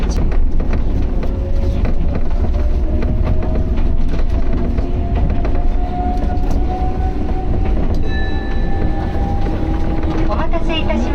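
Loud, constant rumble of an Enoden (Enoshima Electric Railway) train riding along in rain, with rhythmic wheel clatter and a rising electric motor whine, heard from inside the car.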